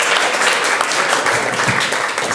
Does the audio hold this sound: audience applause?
yes